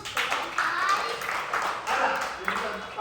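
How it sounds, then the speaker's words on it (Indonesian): Fourth-grade children clapping hands together in a classroom, a few short bursts of claps mixed with children's voices and chatter. "Tepuk tangan."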